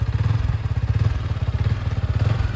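Yamaha MT15 motorcycle engine running steadily in first gear, a close, loud pulsing chug with a regular low throb throughout and no talk.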